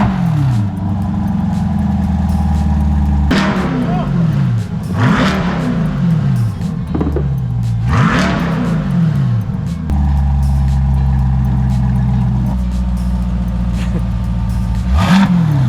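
A C8 Corvette with a Corsa Extreme exhaust in touring mode with the valves closed, revving in repeated deep swells that rise and fall several times, then settling into a smooth, loud idle.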